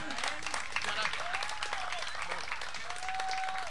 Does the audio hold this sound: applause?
yes